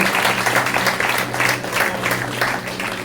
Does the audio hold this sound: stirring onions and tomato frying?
no